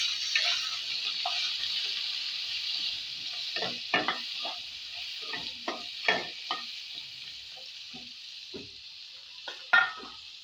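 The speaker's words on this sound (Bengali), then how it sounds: "পটলটা ভেজে নেবো একটু নুন হলুদ দিয়ে হালকা করে, এটা ভেজে নেবো" Pointed gourd frying in oil with salt and turmeric, a bright, steady sizzle with repeated clattering stirs that grow busier toward the end.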